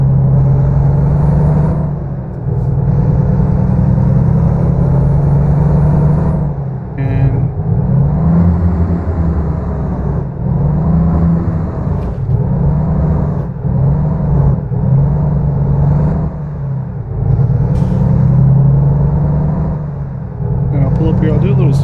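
A Volvo VNL truck in American Truck Simulator runs its Jake brake, a loud, steady low engine rumble with rhythmic pulsing that holds through the clip, dipping briefly once before resuming.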